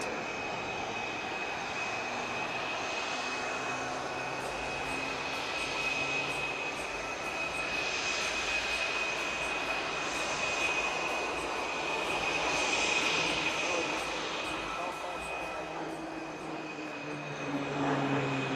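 A fighter aircraft engine roars continuously at an air show during an aerobatic horizontal figure-8 loop, with a steady distant rumble and a high whine that swells and fades as the plane turns.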